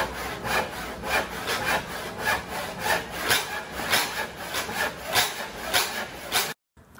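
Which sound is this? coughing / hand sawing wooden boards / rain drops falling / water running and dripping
hand sawing wooden boards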